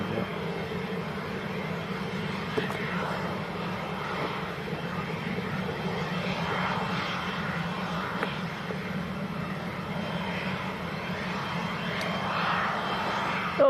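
A Jet2 airliner taxis at Leeds Bradford Airport, its engines giving a steady, loud, continuous drone with a low rumble that holds for the whole stretch, without any voices.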